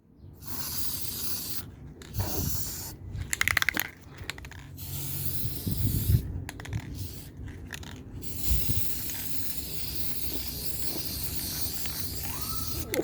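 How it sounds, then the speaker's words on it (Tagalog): Aerosol spray hissing on car brakes during preventive maintenance before a winter tire change, in several bursts of varying length separated by short pauses, close and fairly loud. "Tuloy ang spray."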